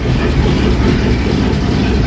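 A 1968 Mustang coupe engine runs after being started, a loud, dense, steady low-pitched rumble heard up close, with no talking.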